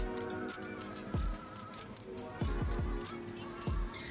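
A heavy solid brass fidget spinner rattles as it spins, producing rapid metallic clicks and clinks in an uneven rhythm with a few duller knocks, close and fairly quiet with no voices.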